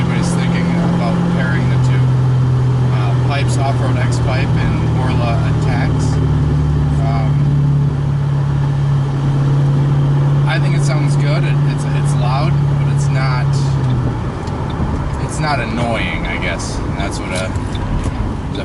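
A 2006 Ford Mustang GT V8 with a Borla ATAK exhaust and Pypes off-road X-pipe drones loud and close at a steady rumble, its pitch holding then dropping slightly, while someone talks over it.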